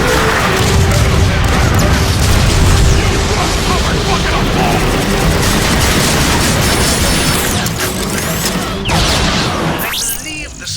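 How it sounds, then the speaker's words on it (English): An artillery strike pounds a Decepticon dropship in the video game Transformers: Fall of Cybertron, a loud, dense, continuous rumbling barrage of blasts and crashes that stays strong for several seconds before thinning near the end. "Optimus, use an artillery strike on that dropship."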